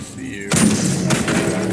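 Heavy gunfire in the video game Helldivers 2 erupts after a brief quiet lead-in, a loud close blast followed by a second shot amid crackling battle noise.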